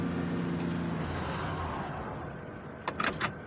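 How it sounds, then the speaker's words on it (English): A car doing a burnout in winter snow, a loud steady engine roar with tires spinning that gradually eases, followed by a few brief knocks near the end. "Burn out."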